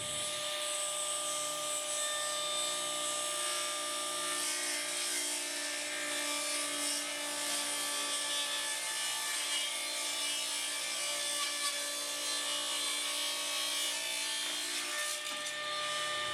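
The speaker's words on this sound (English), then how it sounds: "now with everything secure, I'm ready to go ahead and cut the first taper" Wood being cut into a taper with a saw riding a tapering jig, a steady, close whining cut with rubbing wood noise running unbroken throughout, no talk.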